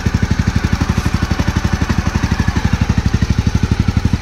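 A used motorcycle at a second-hand bike market in Jorhat idles just after starting, its engine loud and near with an even, rapid thumping beat that holds steady throughout.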